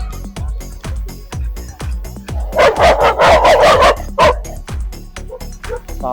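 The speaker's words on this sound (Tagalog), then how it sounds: "Tapang ng aso ah." A dog barks rapidly and aggressively behind a fence near houses, a loud, close volley of repeated woofs with a few higher yips mixed in, and no talking.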